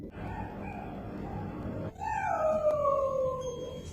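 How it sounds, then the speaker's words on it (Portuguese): A dog locked in a cage whines and cries, then lets out a long, wavering howl that rises and slowly falls; the sound is close and mournful over a steady background noise, with no talk. "A imagem de como um cachorro preso em uma gaiola chorava dia e noite."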